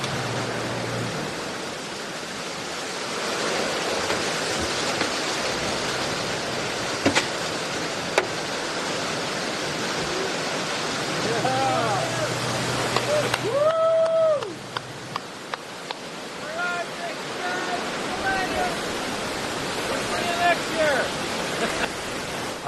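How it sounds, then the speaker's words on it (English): Ocean waves breaking near a waterfall at the Spout in Newfoundland, a steady, close roar of rushing water that carries through the whole stretch, with brief bird-like chirps partway through. "We just had to get off the boat while the waves are crashing."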